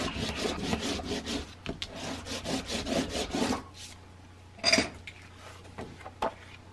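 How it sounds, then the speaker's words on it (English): Paper being burnished for a tri-fold mini album cover, a run of quick rhythmic rubbing strokes close by. After a pause come a sharp clack and a few lighter scrapes. "now I'm going to flip this one over and burnish"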